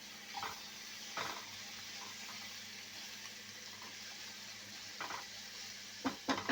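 Potato and papaya being sautéed in a pan for a vegetarian curry: a soft, steady sizzle with occasional scraping stirs against the pan, fairly faint and with no one talking.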